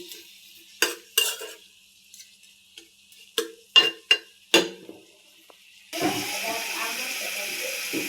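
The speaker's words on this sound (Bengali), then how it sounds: "আমার চিংড়ি মাছ ভাজা ভাজা করছি" Prawns frying in a pan at home: a few sharp utensil clinks and scrapes against the pan come first, then a loud, steady sizzle takes over and holds to the end.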